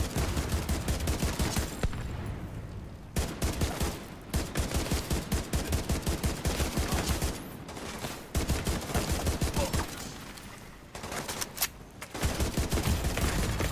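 Gunfire in the video game The Division, loud bursts of rapid automatic shots firing in a steady rhythm, broken by brief pauses before the shooting resumes.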